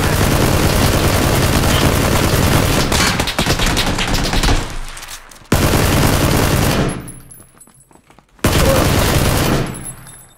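Gunfire in the battle-royale game PUBG: loud, dense bursts of automatic fire lasting several seconds, cutting off abruptly, then returning in two more sustained volleys that fade and stop.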